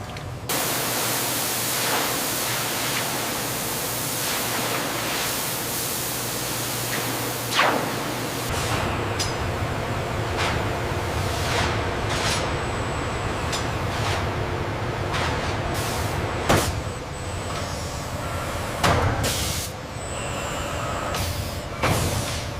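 Electrostatic paint spraying coats a car body in a continuous loud hiss of spray, with occasional sharp bursts and clicks over the steady broadband rush.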